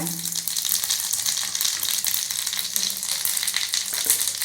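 Mustard seeds, cumin and asafoetida sizzling in hot oil for tempering a drumstick sambar, a steady bright crackling fry with small pops close by.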